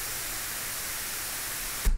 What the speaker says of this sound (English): I'm going to play the white noise without the target curve and then with it.